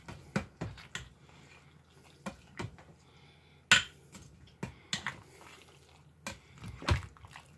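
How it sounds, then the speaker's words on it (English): A spoon stirs well-cooked food in a pot while making brown sugar and molasses cookies, giving a quiet scattered series of scraping clinks and taps against the pot, with short pauses between strokes. "I'm going to stir this around so I can mix everything together"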